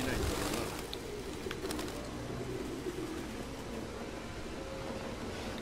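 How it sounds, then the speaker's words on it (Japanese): Pigeons coo in the video game Detroit: Become Human, soft murmuring calls set in a dense, hissing ambient bed, with muffled voices faintly present. "次から次から来ますな、ハトさん。"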